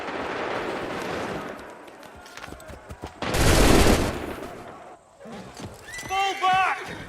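Musket volley fire in the Assassin's Creed III video game: one loud, dense burst of massed shots rings out amid a battle scene, with horses whinnying and hooves clopping around it.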